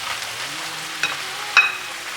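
Prawns tipped into a hot pan of mussels crackle and sizzle with a steady broadband frying hiss, broken by a couple of brief louder spits or clinks near the end; no one speaks.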